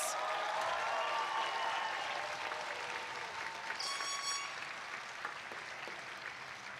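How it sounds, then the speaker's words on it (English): Sustained applause from a crowd of families and guests for graduates at a Notre Dame San Jose Class of 2022 graduation ceremony, a dense, steady clapping that holds for several seconds. "Let us take one rousing round of applause for our graduates"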